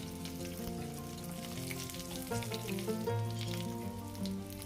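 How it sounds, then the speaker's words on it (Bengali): Stuffed spiny gourd (kakrol) frying in hot oil in a pan, browning on one side before being turned; a steady, soft sizzle runs under background music. "এইভাবে সুন্দর করে লাল করে আমরা ভেজে নিচ্ছি"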